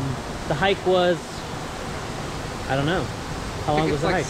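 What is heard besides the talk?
waterfall at Seven Falls near Tucson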